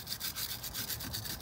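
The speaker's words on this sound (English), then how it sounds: "So just go over it with a wire brush." A wire brush is scrubbed rapidly back and forth over a rusty drive shaft, making a close, brisk rasping scratch in quick repeated strokes.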